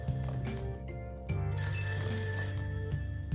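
In the video game Persona 5 Royal, a phone rings with repeated tonal bursts, heard clearly in a game soundtrack with no one talking.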